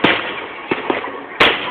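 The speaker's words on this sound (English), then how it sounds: "This fireworks show goes on for more than 20 minutes." Fireworks at the 2008 Stadium of Fire show burst in four loud, sharp bangs with crackling tails, the last one the biggest, heard up close with no voices.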